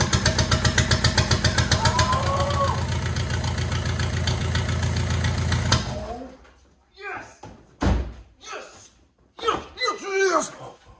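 A Volkswagen TDI diesel engine runs with a loud, steady rhythmic clatter up close for several seconds, then cuts off abruptly, and excited voices take over.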